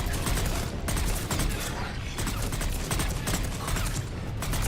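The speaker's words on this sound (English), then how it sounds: "So they'll take 3 shots and then they'll stop." Enemy gunfire in Mass Effect 3 rattles in short bursts with brief pauses between them. Dense, harsh clatter runs throughout at moderate loudness.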